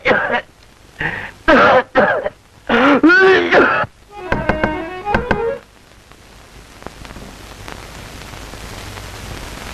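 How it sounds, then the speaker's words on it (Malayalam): A person coughs and clears their throat several times in quick, harsh bursts at close range, then the sounds stop and only faint hiss remains. "ഇപ്പോഴേ തുടങ്ങിയല്ലോ ചുമ."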